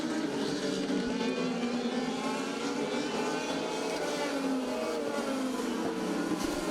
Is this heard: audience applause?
no